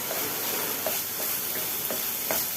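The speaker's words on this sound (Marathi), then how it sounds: "6 मिनिटं परतून घेतोय" Ingredients sauté in a hot pan with a continuous sizzling hiss and a few soft stirring scrapes, close and steady, with no talking.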